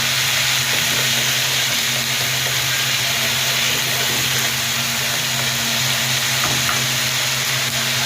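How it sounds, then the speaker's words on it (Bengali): Shrimp sautéing in a pan make a loud, continuous sizzle with a steady hiss that barely varies, and a low hum sits underneath throughout, with no speech. "চিংড়ি একটু আস্তে একদম কষা দেবো"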